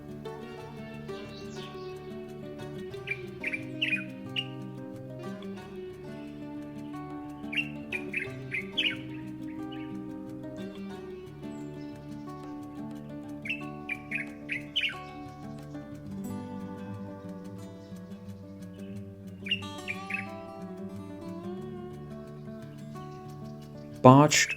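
Common bulbuls feed on ripe fruit in Morocco. Short bursts of bright chirping calls repeat every few seconds, fairly faint, over a steady layer of music.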